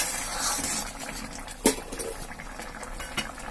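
Bengali rui fish curry with mustard paste bubbling in a pan, a continuous thick simmering burble with a couple of sharper pops and a light utensil clink, close and moderately loud.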